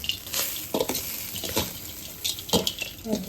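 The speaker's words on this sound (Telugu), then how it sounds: "ఈ తాలింపుని ఇప్పుడు రైస్ లో వేసేసుకోవాలి." Tempering is stirred into cooked rice with a utensil: soft scraping and clinking strokes against the pot, close and fairly quiet, with a faint sizzle running underneath and no talking.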